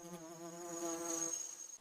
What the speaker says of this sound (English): A territorial stingless bee attempts to defend the food source, circling the larger visitor.